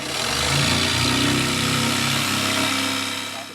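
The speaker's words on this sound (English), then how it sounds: "Use the jigsaw to cut this little piece out" An electric jigsaw cuts a wooden Viking shield shape, giving a loud, steady buzzing drone close by that runs continuously for several seconds with only slight variation in pitch.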